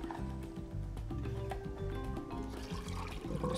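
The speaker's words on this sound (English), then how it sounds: "Just pouring this out." Warm water pours out of a film developing tank in a short, continuous splashing stream, fairly quiet and mixed with background music.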